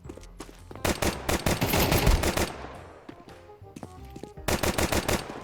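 Rapid pistol and rifle gunfire in a Counter-Strike match, loud and close, with dense bursts of repeated shots, a brief lull, then another sharp volley of shots near the end.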